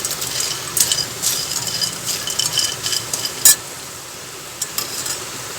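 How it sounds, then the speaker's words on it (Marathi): Sandage, dried lentil dumplings, frying with garlic in a pan while being stirred, with soft steady sizzling and scattered close scrapes and clinks of a spoon against the pan, no voices. "आता आपला लसूण परतून झालाय, त्यात आपण सांडगे घालून घेऊ। एक 2 मिनिटं परतून त्यात सुके मसाले घालू।"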